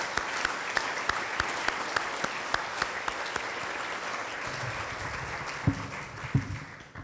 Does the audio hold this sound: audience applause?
yes